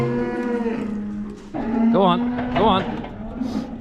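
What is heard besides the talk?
cows mooing in a farm shed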